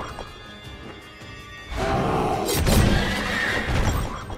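Horses whinny loudly in the video game Child of Light, a burst of neighing rising suddenly out of quiet background game music and continuing for a few seconds.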